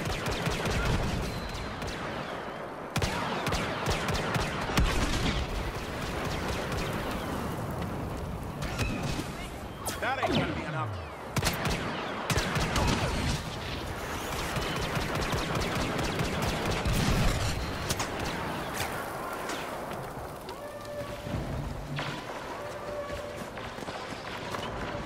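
Rapid blaster fire and explosive bursts from a Star Wars Battlefront battle against an AT-AT walker, dense and continuous throughout with running, game ambience and voice callouts mixed in.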